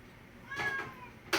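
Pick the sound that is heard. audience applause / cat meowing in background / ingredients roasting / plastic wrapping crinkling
cat meowing in background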